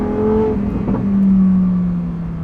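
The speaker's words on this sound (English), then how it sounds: "The NA V10 engine, oh my god." Lamborghini naturally aspirated V10 engine revs loud and close, a sustained high-pitched roar that swells midway and holds steady before easing slightly, with no talking over it.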